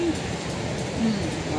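Steady hiss of rain falling on an Ocean Park water ride, a dense, wet wash of noise throughout, a voice briefly speaking over it.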